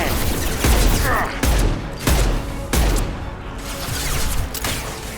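Gunfire in Mass Effect 2: a series of sharp, loud shots and bursts spaced roughly half a second to a second apart, with rattling fire and echoing tails between them.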